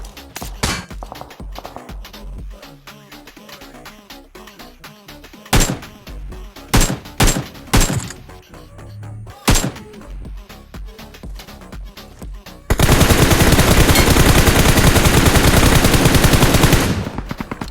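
Gunfire in BGMI (PUBG Mobile) crackles throughout, scattered single loud shots giving way to a sustained, dense burst of rapid automatic fire near the end.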